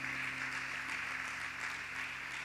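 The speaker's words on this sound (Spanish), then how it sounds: "Dale fuerte el aplauso a Dios" A church congregation applauds together, a dense, even wash of clapping held at moderate distance for a few seconds, with a faint electrical hum underneath and no voices standing out.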